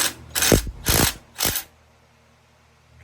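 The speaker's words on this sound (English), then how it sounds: "Now I'm actually removing the harmonic balancer, a little different setup on the puller." A puller pulling a harmonic balancer off an engine: three loud, broad grinding bursts in a row, each lasting a fraction of a second, then near silence.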